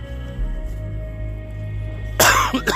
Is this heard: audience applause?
no